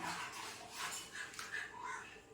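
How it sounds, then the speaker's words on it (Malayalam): A dog whimpers and cries as a cat approaches, its faint, high whines repeating over background household noise. "പൂച്ച അവിടെ വരുമ്പോഴേക്കും ചോട്ട് അവിടെ നിലവിളിക്കാൻ തുടങ്ങി"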